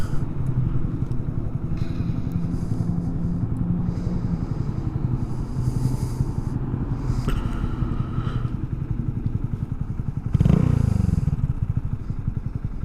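A motorcycle engine rumbles steadily and loudly up close, with a rough, throaty idle and a brief surge in power near the end.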